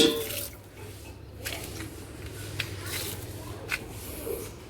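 Water, flavoured with cumin seeds, splashes steadily from a bucket onto the base of peepal and banyan trees outdoors, a continuous soft wash with a few sharper splashes over faint background noise.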